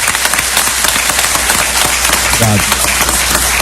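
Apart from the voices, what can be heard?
applause for Celso Rigo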